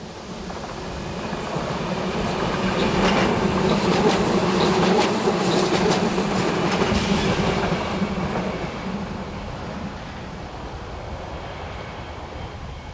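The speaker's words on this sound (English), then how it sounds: "4124032 approaches the camera with a service for Deutschkreuz." Class 4124 electric multiple unit train approaching south of Neufeld station in Austria on a service to Deutschkreuz, a steady rumble and rail noise that swells to a peak mid-pass and then eases off, with no voices.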